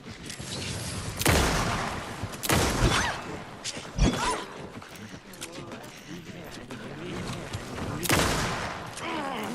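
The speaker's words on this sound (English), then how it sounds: "Three shots to take down one." Gunfire rings out in the video game Alan Wake II: several loud, sharp shots spaced a second or two apart. A voice talks between them.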